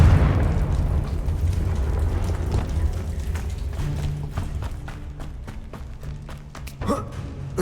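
Confringo fire spell in the video game Hogwarts Legacy: a loud, rumbling blast at the start that decays into crackling debris and scattered pops, with another sharp burst near the end.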